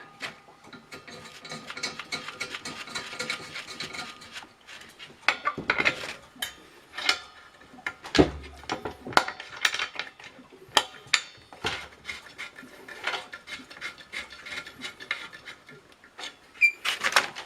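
A metal lid is fitted onto the boiling pot of a home still filled with apple mash, with sharp clanks, scrapes and ratcheting metal clicks coming in irregular bursts between quieter pauses, close by and without talking.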